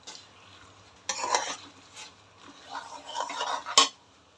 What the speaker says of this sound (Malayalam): ഒരു മിനിറ്റ് നന്നായി ഒന്ന് ഇളക്കിയെടുത്തു.